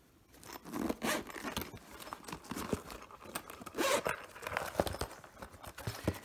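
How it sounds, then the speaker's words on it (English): A double zipper on a binocular carrying case is pulled open and shut in several quick, rasping strokes, close up, with soft handling rustles between the pulls. "Get a really nice carrying case, double zipper."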